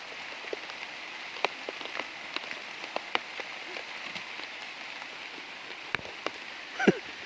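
Heavy rain hisses steadily on a surface in a forest, with scattered louder drops pattering through it and a brief knock near the end.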